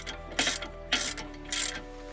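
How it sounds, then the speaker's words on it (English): A torque wrench ratchets in three short bursts as it tightens the brake bracket bolts on a 450 hp Audi S3 hub to 200 Nm, loud and close in a workshop. "we will tighten it up to 200 Newton meters"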